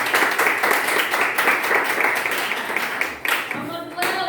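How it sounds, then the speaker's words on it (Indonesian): Classroom applause from a group of students clapping together in a steady dense patter that runs almost the whole time, briefly dipping near the end before resuming. "Tepuk tangan."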